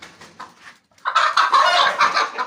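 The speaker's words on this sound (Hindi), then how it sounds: "ये देखें फ्रेंड्स, मैंने मुर्गी पकड़ी है" A hen held in someone's hands clucks, a few soft clucks at first, then a brief pause and a louder, agitated burst of squawking clucks, close by.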